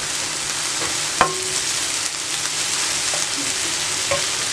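Omelette egg mixture cooks on a hot tawa, giving a loud, even sizzle with a sharp utensil knock and a few light scrapes.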